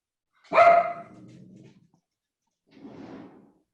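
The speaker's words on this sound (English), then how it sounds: "Dog approves." A dog barks once loudly and nearby, with a trailing growl-like tail, then a second quieter, rougher bark about two seconds later, in an otherwise quiet indoor setting.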